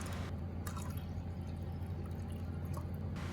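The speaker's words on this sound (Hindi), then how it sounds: "इसमें अब हम डालने जा रहे हैं 3 कप के करीब पानी" About three cups of water trickle and splash into a pot holding washed toor dal, a faint, steady pour heard up close.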